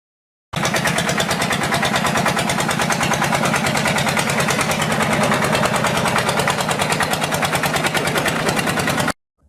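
A tractor engine runs continuously with a fast, even mechanical throb, loud and close from start to finish with no pauses.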